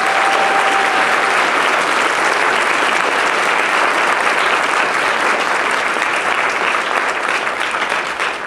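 A school crowd applauds students for their Allstate auditions, a loud, dense, sustained wash of clapping that stays steady for the whole stretch and eases off slightly at the very end.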